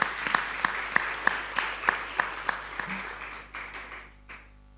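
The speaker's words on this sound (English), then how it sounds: "A hand of applause." An audience at a conference session on partnerships applauds, a modest round of clapping with a few sharp claps on top that tapers off and fades out near the end.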